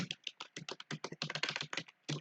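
Rapid, uneven keystrokes on a computer keyboard while a code comment is typed, a steady run of close clicks with brief pauses and no talking.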